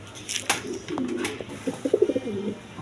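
Pigeons for sale coo in soft, low rolling bursts, growing more rhythmic toward the end, with a couple of sharp clicks near the start.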